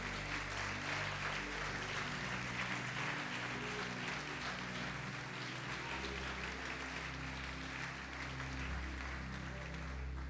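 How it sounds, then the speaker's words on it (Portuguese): A church congregation applauds during a Lord's Supper service, a continuous wash of clapping that stays even throughout, with a low hum and faint background sound beneath it. "Vamos aplaudir,"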